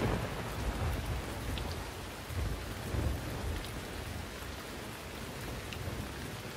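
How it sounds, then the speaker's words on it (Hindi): Steady heavy rain with rumbling thunder in a thunderstorm, a dense continuous wash of drops with low booming swells, close and loud with no voices. "बारिश शुरू हो गई है"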